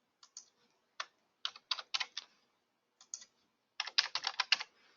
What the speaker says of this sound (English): So let's just type in an address.